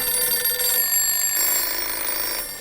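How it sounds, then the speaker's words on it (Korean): A telephone bell rings insistently in a newsroom press room, a bright, rapid trilling that continues without pause and sits close and clear. "급박하게 전화벨이 울리기 시작합니다"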